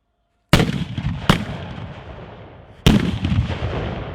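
Cannon artillery fires three heavy, booming blasts. Each lands as a sharp crack with a long rumbling tail, two close together and a third after a pause.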